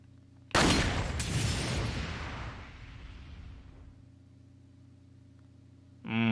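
In Resident Evil 4, a red target is shot and sets off a sudden loud explosion. A second blast follows quickly, then a long fading rumble. A steady low game hum runs underneath, and a brief tonal sound enters near the end.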